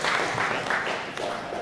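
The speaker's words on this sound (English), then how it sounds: "And applause." Brief applause from a small audience at an artist-run summit, scattered clapping fairly quiet and uneven, fading somewhat toward the end of the short burst.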